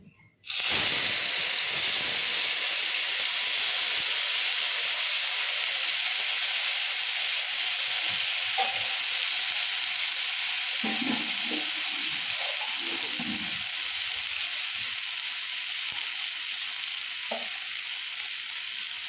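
Water poured onto a dry paste of poppy seed, cashew and melon seed in a hot pan bursts into a loud sudden hiss that holds as a sustained, slowly easing sizzle, with faint stirring scrapes and knocks.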